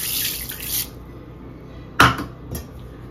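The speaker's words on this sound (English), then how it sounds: "The lentils have been added. That's 1 cup of lentils." Dry lentils, one cup of them, pour into a pot of kale soup with a short rattling clatter, followed by a few lighter knocks of pan and utensil, close by with no speech.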